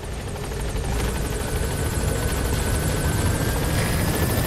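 Helicopter arriving at a landing zone in the video game Metal Gear Solid V, a steady loud rotor drone with whining turbine, constant throughout without pause.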